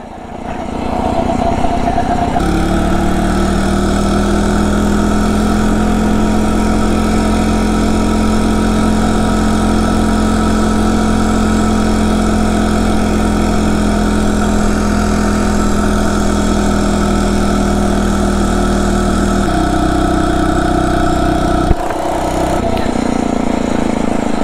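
A Phatmoto motorized bicycle engine runs steadily and loudly for the whole stretch, with a droning mid-pitched tone that holds constant, shifts pitch slightly near the end, then settles again on a cold winter ride to work.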